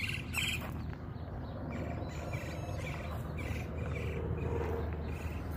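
Birds chirp and sing in the distance amid a soft outdoor background, their short, faint calls scattered across a quiet ambience with insects buzzing along, no talking heard.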